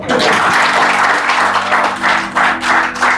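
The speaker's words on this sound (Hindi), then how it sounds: "ताली बजाइए" A stress management seminar audience claps on request, uneven bursts of applause pulsing in waves over a steady low hum, fairly loud and close.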